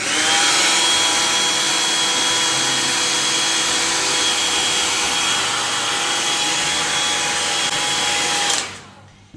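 A hair dryer blows steadily on a wig as its edges and ends are dried, a loud continuous whooshing whir that holds for about eight seconds and then cuts off abruptly.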